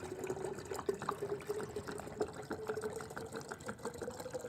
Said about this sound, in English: I'm gonna pour this in here real quick so we have enough to make the rest of our coffee.